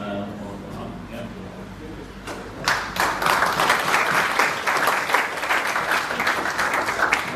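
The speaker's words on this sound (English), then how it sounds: "And a big round of applause again for Glenn Doherty." An audience at a peace forum in Derry, Ireland breaks into applause after a voice speaks, the dense clapping swelling abruptly and continuing steadily, loud and close.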